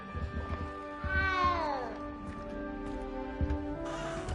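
A frightened little cat gives a single clear, descending meow near the listener, followed by quieter ambience and a couple of soft knocks.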